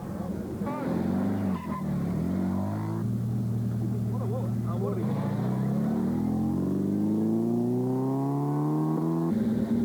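Rally cars accelerate away at the start of the 2000 NZ Targa tarmac rally among the Redcliffe vines, older low-powered cars leading; engines rise and rev loudly throughout, with someone narrating over them.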